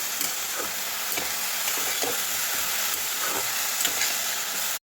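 Cabbage and potatoes stirred in a pan for a low-oil vegetarian dish, with a dense continuous sizzle and occasional soft scrapes of the spatula, close and steady until it cuts off abruptly.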